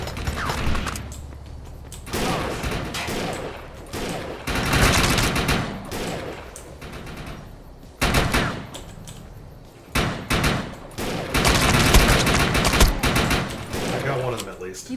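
Rifle fire in the video game Defiance 2050 comes in dense, loud bursts of rapid shots mixed with game effects and background noise, with short pauses between volleys.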